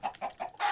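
Minecraft chickens cluck in a quick run of four short clucks, close and clear, with nothing else heard.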